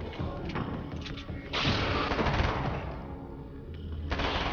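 Submachine gun fire in the video game Alan Wake's American Nightmare: sustained rattling bursts, loud and near, with a heavier surge midway and continuing shots mixed with mechanical clatter until the end.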